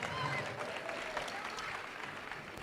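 Audience applauding at a VRC Over Under high school state robotics championship in Colorado, a steady wash of clapping and crowd noise from a large arena that holds at a constant level for a few seconds.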